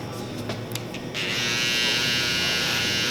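Cordless Oster 76 hair clipper buzzing steadily and close, a loud continuous electric hum that starts after a second of quieter handling noise and holds for the rest of the stretch.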